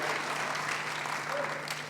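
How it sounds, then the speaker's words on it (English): Steady audience applause at a university graduation ceremony honouring a marketing student, a dense, even roar of many hands clapping at moderate loudness throughout the short stretch. "can I ask that we have a marketing applause after this, please"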